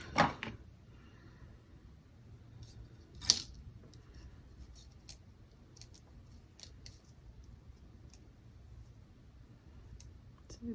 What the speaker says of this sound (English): line them up, cut them out.